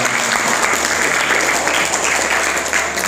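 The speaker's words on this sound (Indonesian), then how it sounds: "Tepuk tangan semuanya." An audience at a religious talk bursts into loud, sustained clapping, a thick continuous wash of hands at steady volume throughout, close and full with a faint low hum beneath.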